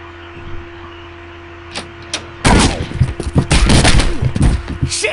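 Gunfire in the video game Postal 2: a quiet stretch with a couple of isolated shots, then a loud burst of rapid, overlapping shots like a fusillade that continues to the end.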